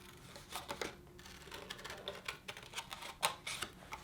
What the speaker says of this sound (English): So I'm going to cut along the spine fold and then cut along my shape.